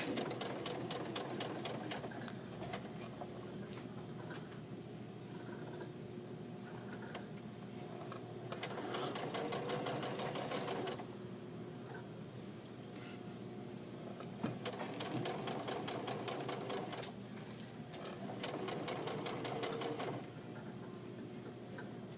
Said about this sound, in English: When I sew these together, I'm putting the pressed up seam flat.